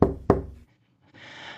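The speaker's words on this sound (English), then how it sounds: "You hear it knock again." Two sharp knocks on a door in a tabletop role-playing session follow each other quickly, loud and close. Silence comes after them, then a faint background hiss.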